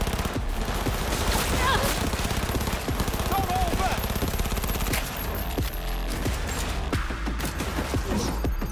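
SMG gunfire in Cyberpunk 2077 rattles in dense, rapid bursts throughout, loud and close, mixed with other combat noise and occasional voices.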